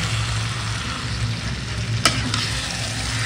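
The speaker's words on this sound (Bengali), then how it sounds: "তারপরেই কিন্তু আমি চিকেনটা এখানে মিক্স করছি" Chicken is stirred into a spiced masala of salt, cumin and coriander for chicken kosha, giving a close, steady frying sizzle with a low hum underneath and one sharp utensil clink midway.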